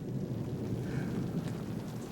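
Steady, dense rain falls with a low thunder rumble running underneath, a continuous even wash of storm noise with no voices.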